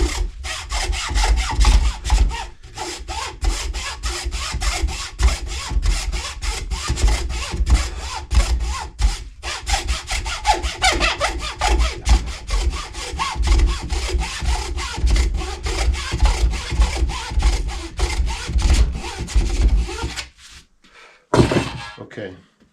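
A hand saw cuts a kerf into a wooden axe handle, fitting it for a wedge, with steady rhythmic back-and-forth strokes that are loud and close and run nearly continuously, stopping near the end.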